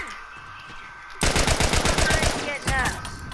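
Rapid rifle gunfire in an online shooter game crackles in a dense close burst after a quiet lead-in, with one more short volley near the end and no talk.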